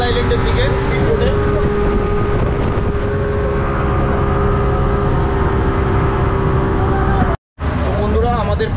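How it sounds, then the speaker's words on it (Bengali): A speedboat heads toward Coral Island off Pattaya, its loud, steady engine drone mixed with rushing wind and water noise throughout, cutting out briefly near the end before resuming. "আর এখন যাচ্ছি কোরাল আইল্যান্ডের দিকে স্পিডবোটে।"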